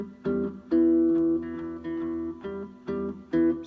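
Unbent notes on a cigar box guitar ring out in a loose sequence of about six or seven plucks, each a clear, close twang that decays before the next, with no talking.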